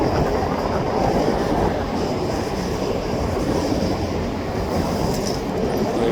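In a CNR/CPKC rail yard a returning freight train gives off a continuous low rumble and rattle of railcars rolling past at close range. The noise stays steady throughout, with a faint high whine overhead.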